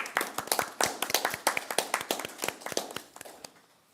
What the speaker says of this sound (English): let's give a little round of applause for National School Counseling Week